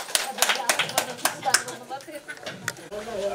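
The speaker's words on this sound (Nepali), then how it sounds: "एकचोटि जोरदार तालीले चाहिँ हाम्रो समय सकिएको चाहिँ घोषणा गरिदिनु होला" Audience at a rural municipality public hearing claps to close the session, a loose rhythm of distinct hand claps among a small crowd, with voices and chatter mixed in.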